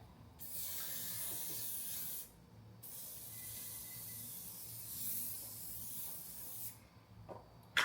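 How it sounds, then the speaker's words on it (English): Several long hissing bursts from an aerosol cooking oil spray, close by, separated by short pauses, with a quiet room behind them. "So guys, I'll spray my cooking spread"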